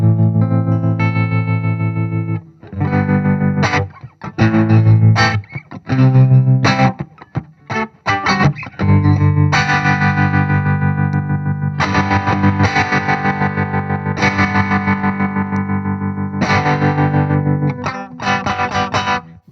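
A Flattley Violet Tremolo guitar pedal in triangular wave mode makes an electric guitar's chords and notes swell and fade in a smooth, steady pulsing rhythm. The guitar plays alone, loud and close, with gaps between phrases.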